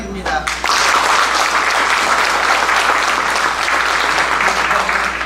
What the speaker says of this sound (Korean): 많은 박수 부탁드립니다